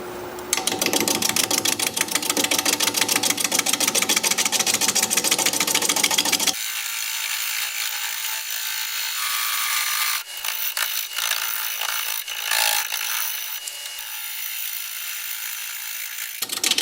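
A chisel cuts plum wood spinning on a wood lathe, giving a steady, rapid rasping scrape for several seconds before shifting to a thinner, brighter hiss of cutting that continues, close and loud, with no talking.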